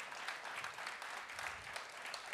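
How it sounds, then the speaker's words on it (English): A crowd at a town-hall session applauds steadily, a dense, distant-sounding wash of many hands clapping throughout. "let's just give a big round of applause for these folks"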